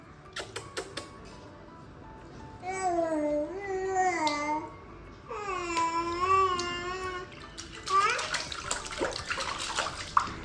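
A child bathing in a tub of water, with faint splashing and trickling behind loud, high-pitched babbling and squealing vocalizations that rise and fall in bursts, close by.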